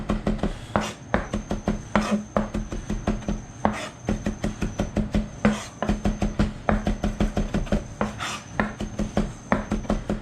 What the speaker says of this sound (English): Okay, so chopping this up.